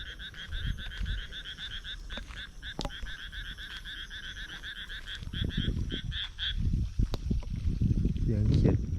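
Dense chorus of frogs croaking in a rice field after fresh rain, rapid rhythmic calls throughout, with someone speaking and handling noises growing louder over the chorus toward the end.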